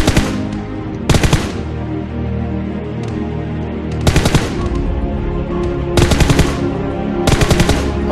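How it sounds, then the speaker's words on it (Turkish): Game gunfire from players shooting at each other in PUBG Mobile, loud bursts of automatic fire arriving in several separate volleys with short gaps of quieter background between them. "Beş kişi birbirini vuruyor ya."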